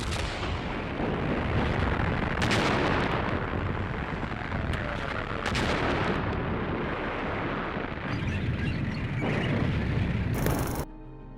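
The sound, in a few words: artillery cannon fire barrage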